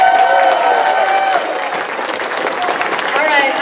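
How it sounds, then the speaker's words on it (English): Convention panel audience applauding its volunteers, a loud burst of clapping and cheering over a few seconds with voices mixed in throughout. "another big round of applause for all our volunteers"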